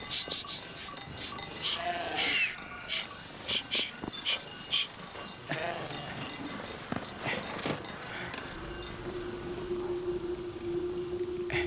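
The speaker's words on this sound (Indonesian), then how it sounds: "Naftali, Ya, giring domba-domba kita menjauh" A flock of sheep being herded outdoors, with scattered bleats and animal calls over a busy background, faint and somewhat distant, ending in a steady droning tone.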